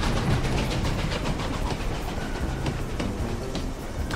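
A train rumbles along with a rolling clickety-clack in the Western video game Desperados 3, steady and fairly close, with no voices over it.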